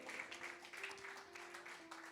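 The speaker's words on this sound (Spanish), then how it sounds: "Dale un fuerte aplauso al Rey." Congregation applause at a Christian church service, a fairly faint, steady patter of many hands lasting about two seconds, with a sustained tone underneath from music or an instrument.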